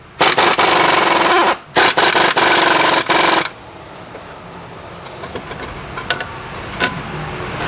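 Several loud bursts of a power tool whirring in quick succession as it drives a bolt into the threaded slots of a Nissan Sentra brake drum, then a quieter stretch of scattered clinks and shop noise.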